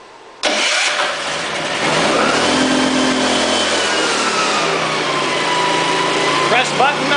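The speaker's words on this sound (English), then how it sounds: "press the top button, which is start for a cold motor." A cold motor starts from a key fob's top start button with choke and starter, catching abruptly after a short silence and settling into a loud, steady running drone that holds to the end.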